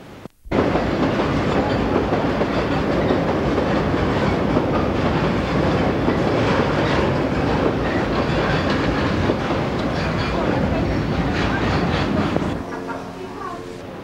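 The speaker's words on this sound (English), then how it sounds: "steel train roars over the North Wales coast mainline and heads into" A steel train rumbles past loudly and steadily on the North Wales coast main line in Britain, a continuous heavy roar with faint rhythmic clatter that eases off at the end.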